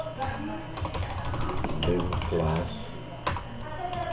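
Code is typed on a computer keyboard as rapid, irregular key clicks under continuous close-up talking, steady throughout.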